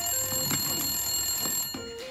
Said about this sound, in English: Our phone line is already going crazy